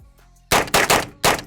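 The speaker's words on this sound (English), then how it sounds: "We're about to send some rounds down range." Gunfire from a CMMG Banshee 5.56 rifle on a shooting range: four loud, close shots, two in quick succession, then another, and a final one after a short pause.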